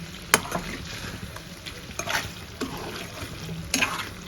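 A spoon stirs chicken botti curry with skin, liver and gizzards in a sizzling pan, giving soft scraping strokes and a few sharper clinks over a low steady fry.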